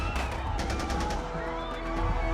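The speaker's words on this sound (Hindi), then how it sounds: "दो अनजान आदमी छत्रपति शिवाजी टर्मिनस में घुसे और गोलियां चलाने" A rapid burst of gunshots rings out over dense background noise and music at Chhatrapati Shivaji Terminus railway station in Mumbai, several sharp cracks in quick succession.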